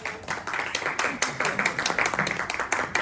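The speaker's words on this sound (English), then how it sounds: "Everybody on side A clap." One side of a comedy hypnotist show audience at the Grand Pier in Weston-super-Mare claps, a loose, fairly quick run of hand claps with a patchy, uneven rhythm.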